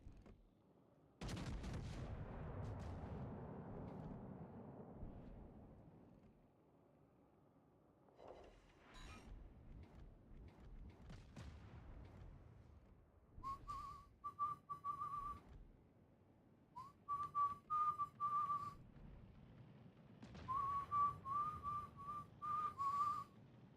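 Naval gunfire in World of Warships Legends, with heavy distant booming salvos and rumbling impacts separated by quiet gaps, and high whistling shell tones in the later bursts.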